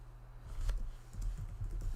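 Soft, rapid keystrokes on a computer keyboard patter unevenly over a low steady hum, close and fairly quiet.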